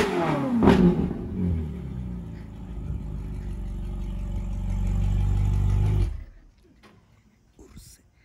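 Ferrari engine revving hard and roaring close by, a loud sustained blare that swells for several seconds and then cuts off abruptly, with excited voices around it.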